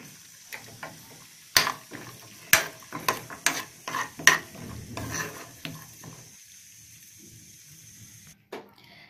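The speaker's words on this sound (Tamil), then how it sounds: "முந்திரியை போடலாம் இதை போட்டு ஃப்ரை பண்ணலாம்" Cashews frying in a pan for sakkarai pongal, with a run of sharp spatula clacks and scrapes over a soft sizzle, close by and busiest in the middle before tapering to a quieter finish.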